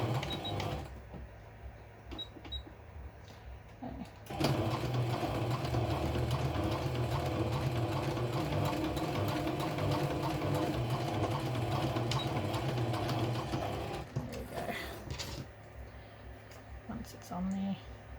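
A sewing machine stitching felt for a small felt mouse, running in a steady, loud mechanical whir for about ten seconds with quieter handling sounds before and after, and a voice speaking over parts of it.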